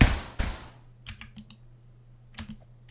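Computer keyboard and mouse clicks while playing a Roblox volleyball game: a couple of sharper key presses, then a scattered run of light, close clicks and taps over quiet background, with no voices.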